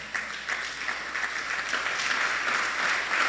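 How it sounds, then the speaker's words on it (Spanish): A church congregation claps together in a broad, sustained wash of applause that stays fairly even and close throughout. "¿Cuántos le dan un aplauso al Señor?"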